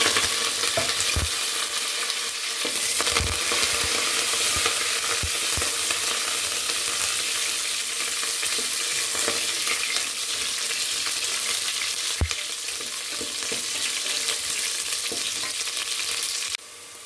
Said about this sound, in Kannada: ಇವಾಗ ಕರ್ವೇನ್ ಸೊಪ್ಪು ಮತ್ತು ಈರುಳ್ಳಿಯನ್ನು ಹಾಕ್ತೀವಿ